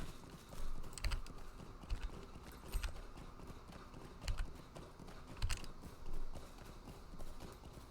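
Horse hooves clip-clop at a steady walking pace in the online game Lord of the Rings Online, near the Hill of Cerin Amroth. The evenly spaced, moderately close hoofbeats sit over a soft ambient bed, with no talking.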